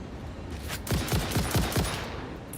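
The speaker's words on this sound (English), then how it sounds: "Machine gun fire" Machine gun fire in the video game Satisfactory: a quick burst of about six rapid, punchy shots, close and loud, with no talk over it.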